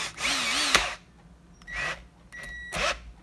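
A cordless drill with a brushed motor spins up in three short bursts, each a loud whirring rise then release, with quiet gaps between them.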